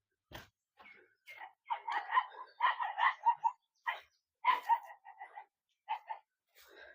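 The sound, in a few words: dogs barking while playing and fighting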